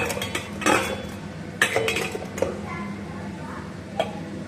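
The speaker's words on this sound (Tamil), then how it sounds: "பனைய முடியாததுனால நான் பெரிய குண்டாவில் இதை மாற்றிக்கிறேன்" Batter is moved into a large metal cooking pot, giving a few clanks and scrapes of utensil against pot spaced across the clip over quiet background, with someone talking between the sounds.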